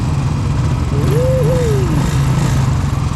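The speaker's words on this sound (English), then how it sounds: "Listen to that engine roar." A steady motorcycle engine rumbles loudly throughout, a continuous low drone with a whining tone rising and falling in the middle.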